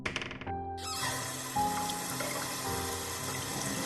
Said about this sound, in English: As the cold water splashes my face